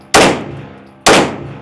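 Two loud, sharp pistol shots from a Glock Gen 6, close by and about a second apart, each ringing out with a decaying tail and no talk over them.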